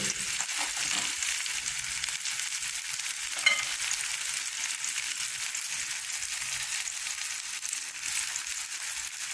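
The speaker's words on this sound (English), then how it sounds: "Let's go to cooking the spinach and then adding the tofu." Spinach cooking in a pan with turmeric and garlic gives a steady, close hiss and sizzle throughout, with occasional stirring scrapes and no talk.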